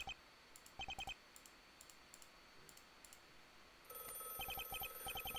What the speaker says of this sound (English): let's actually answer the phone this time